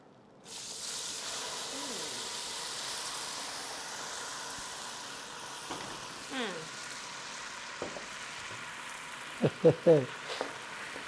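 Meat stock poured into a pot of ogbono soup, a steady sizzling hiss with brief liquid splashes and stirring clinks near the end, while people talk over it.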